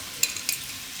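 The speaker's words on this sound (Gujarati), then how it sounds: "એમાં થોડાક આપણે આખા મસાલા નાખીશું." Whole spices such as cinnamon, peppercorns, star anise, cloves and bay leaf hitting hot oil for a Gujarati dum aloo gravy tempering, two short crackling bursts over a faint steady sizzle, nearby and with no voices.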